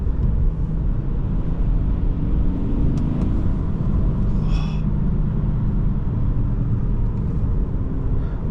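A 2014 BMW 335xi with a manual gearbox drives along, its engine and road rumble forming a steady low drone heard from inside the cabin, with a few faint clicks and no talking.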